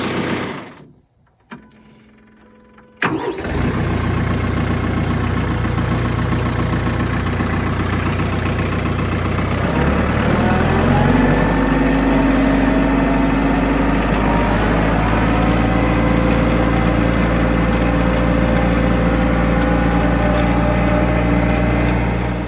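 A compact tractor engine starts and settles into a steady, loud idle, a low continuous rumble with a faint mechanical knock that holds throughout.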